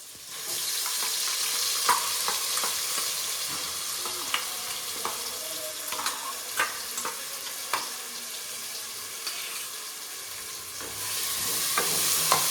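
Ground masala paste frying in a pan, a steady close sizzle with scattered stirring scrapes and clicks, running alone without talk.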